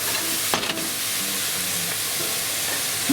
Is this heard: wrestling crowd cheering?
no